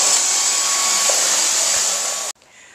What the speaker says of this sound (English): Look at how quickly the Dyson Digital Slim picked up all of that sand.